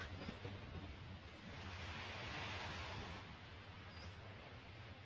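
Ocean waves wash in a steady, soft broadband rush with slow swells in intensity, faint and distant, with wind mixed in and no voices.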